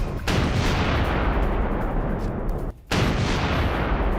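A blast at a gas station in Ukraine during a Russian attack sounds as a loud, sustained roar of booming noise, broken by one brief drop before the rumble resumes.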